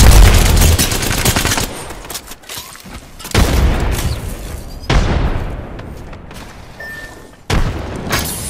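An arc star grenade detonating in a video game: sharp, loud blasts hit at intervals, each decaying into a crackling tail, amid bursts of gunfire.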